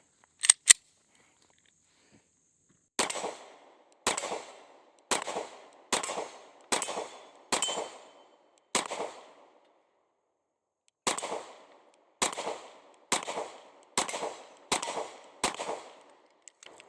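Two quick shots, then two strings of about six evenly spaced, sharp gunshots from a Smith & Wesson Shield X 9mm pistol on a range, loud and close, with brief gaps between rounds and no talking.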